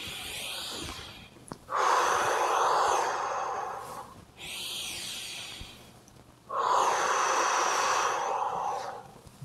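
Slow, deep breaths during a yoga shoulder-rotation exercise, heard up close: two long airy inhale-exhale cycles, each a broad rushing swell of breath with short pauses between.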